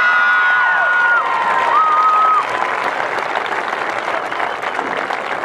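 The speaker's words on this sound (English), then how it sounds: "I'd like to hear a round of applause once again for all of our homecoming court" Applause and cheering from a crowd at a 2010 college homecoming ceremony honoring the homecoming court, steady and fairly loud throughout, with a few whistles near the start.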